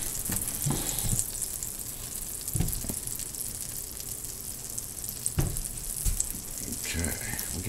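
Olive oil and butter heating in a pan on high heat, a continuous bright sizzle with a few soft knocks and clinks, and brief voice sounds in the background.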